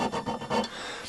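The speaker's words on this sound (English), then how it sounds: "let me just find a little needle file and see what the hardness is in this" A small needle file rasps across a metal lathe part to test its hardness, giving a few quick, close scraping strokes in an uneven rhythm.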